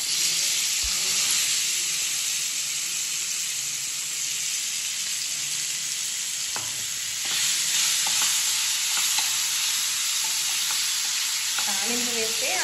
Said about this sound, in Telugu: తాలింపు వేసేస్తున్నాను అంటే స్టవ్ ఆఫ్ చేసేసుకుంటున్నాను.